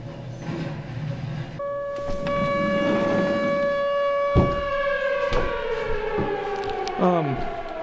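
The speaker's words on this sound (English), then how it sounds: "It's not every day you hear a siren go off, and especially here in a town like Bend" An air raid alert siren goes off in the town of Bend, a loud sustained wailing tone that holds steady and then slides downward near the end, heard outdoors with some background noise.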